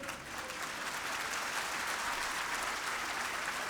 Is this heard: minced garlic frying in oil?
no